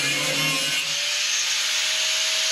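An angle grinder cuts rusted body metal on a 1967 Mustang, giving a steady high-pitched whine and grinding rasp that holds loud and close throughout, with no voices.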